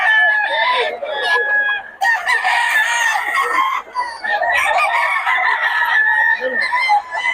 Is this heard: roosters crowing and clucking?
yes